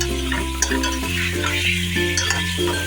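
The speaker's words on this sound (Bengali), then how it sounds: "সুন্দর করে নেড়ে চেড়ে একটু ফ্রাই করে নিতে হবে।" Chicken pieces for biryani stirred and fried in a pan, with a steady sizzle throughout and repeated scraping stirs, close and continuous.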